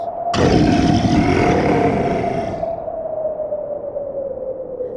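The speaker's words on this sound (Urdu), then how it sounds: "برفانی ریچھ کی آواز آئی" A polar bear roar sound effect in a cassette bedtime story bursts in suddenly, loud and rough, then fades into a lingering low droning tone.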